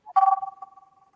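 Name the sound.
telephone ringing with incoming call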